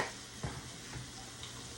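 Shrimp seasoned with Old Bay sizzle steadily in a frying pan, a constant close hiss with a few faint ticks and stirring knocks.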